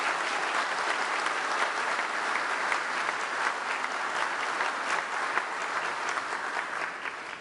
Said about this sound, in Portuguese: recebendo o aplauso de todos nós